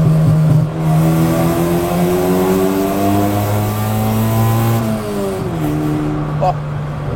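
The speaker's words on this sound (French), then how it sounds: "Et c'est une Civic, elle fait du bruit." Honda Civic EC9 engine revving loudly nearby, sustained rising and falling engine pitch with a throttle blip near the end, people talking over it.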